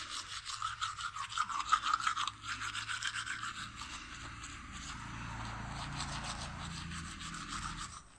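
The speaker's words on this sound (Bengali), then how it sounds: "এখন আমি একটু দাঁড়িয়ে দাঁড়িয়ে ব্রাশ করছি।" Toothbrush scrubbing teeth while standing on a balcony facing a busy street, a soft rhythmic rubbing that is close and faint, with low street ambience underneath.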